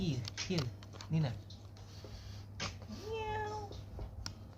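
A pet kitten meows several times indoors, short and fairly close with a longer rising meow near the end, over a quiet steady hum while a person talks nearby.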